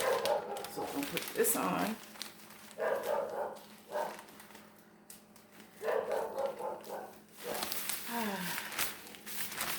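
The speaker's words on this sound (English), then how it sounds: "Now, if you hear the dog in the background," A dog barks now and then in the background of a home garden while someone talks close by, the barks faint and partly buried under his voice and some crinkling.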